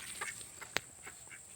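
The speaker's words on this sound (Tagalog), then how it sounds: "Sa mga pato na lumalangoy" Ducks swimming on water give faint, quiet quacks, with one sharper quack standing out briefly amid soft background noise.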